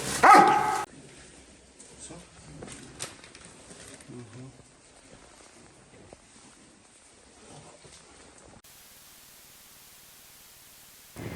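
A police sniffer dog searching for drugs barks a few times, faint and distant, under hissing static and murmured voices, after a loud opening burst.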